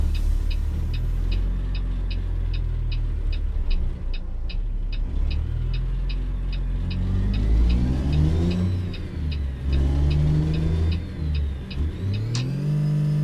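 A Cummins Signature-powered Peterbilt 389 hauls a reefer trailer in American Truck Simulator. Its loud, close diesel engine drones steadily, then revs and surges unevenly after a missed gear shift, under a repeating high electronic beep.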